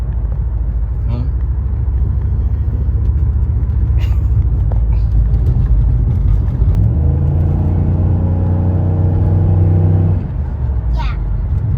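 Chevrolet Impala SS engine fitted with a K&N cold air intake, a loud close rumbling idle that rises into a droning rev before dropping back, with a voice speaking over it.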